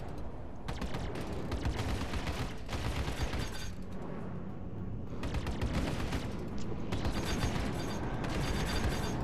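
Star Citizen ship weapons firing in rapid, dense sustained bursts, loud and continuous with brief lulls, a steady mechanical roar underneath.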